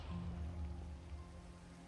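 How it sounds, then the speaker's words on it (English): Rain falling in the Minecraft video game, a steady soft hiss of drops with a low rumbling undertone, continuous and fairly faint, with no voices. "Oh, it's raining."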